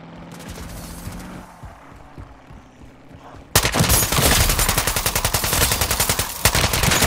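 Call of Duty Modern Warfare III Zombies: a quieter stretch of mechanical clicks and hum gives way abruptly to loud, sustained automatic gunfire with rapid rhythmic shots, close and continuous to the end.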